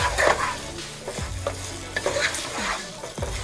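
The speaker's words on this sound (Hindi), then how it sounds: "अब हम अपनी जो चिकन हमने फ्राई किया था वो डाल देंगे और अब इसको बहुत अच्छे से घुमाएंगे" Fried chicken for spicy Chicken 65 is stirred into a sizzling gravy, with loud, close sizzling and repeated scraping stirs of a spoon against the pan, and no voices.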